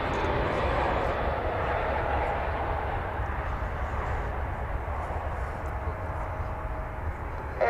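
An American Airlines airliner in Stand Up To Cancer livery at DFW Airport gives a steady, loud jet engine roar that fades slightly over several seconds.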